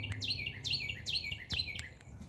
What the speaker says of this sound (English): You can listen to the bird sounds.